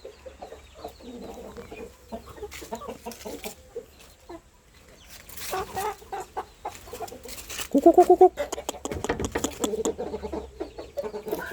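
Burmese fighting roosters cluck in a garden, a close series of short throaty clucks that grows louder toward the middle, with someone speaking faintly at times.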